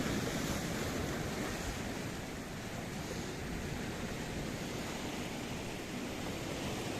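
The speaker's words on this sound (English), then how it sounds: "as we get closer to the water's edge, that water starts to froth up and tries to eat us." Mediterranean Sea waves break and froth against a rocky shoreline in Paphos, Cyprus, a loud continuous roar of surf with wind buffeting the microphone close by.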